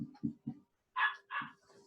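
A puppy barks indoors, three short low yaps followed by two higher, louder barks and a fainter trailing whine, close by and with no talk.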